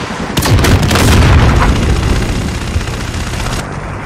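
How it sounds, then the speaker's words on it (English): Incoming missile explosions in Call of Duty: Modern Warfare form a loud, dense rumbling roar with crackling blasts and mixed gunfire, sustained throughout and easing slightly toward the end. "Missiles incoming!"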